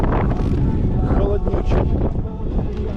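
Cold wind buffets the microphone in loud, rumbling gusts outdoors in Crimea in April, with a voice partly audible beneath the roar.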